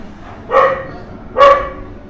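A dog barks twice, close and fairly loud, with the two sharp barks spaced about a second apart against a quiet background.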